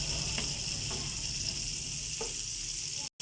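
Vegetables sauté with garlic and onion in a pan that was used to fry fish, giving a continuous close sizzle with faint stirring clicks and a brief cut near the end.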